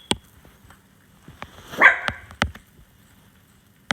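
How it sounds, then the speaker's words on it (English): A dog barks in several sharp, separate bursts with pauses between them, one drawn-out yelping whine in the middle, fairly close by. "Sorry about the dog's barking."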